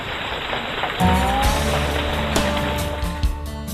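A steady, dense hiss of a nightly rain shower at a mud festival falls throughout, growing slightly heavier after the first second, with a faint tonal hum underneath.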